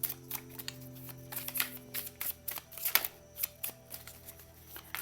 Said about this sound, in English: there must be another message because I started shuffling again